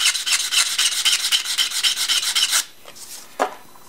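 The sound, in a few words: sanding a cut in a bamboo dip pen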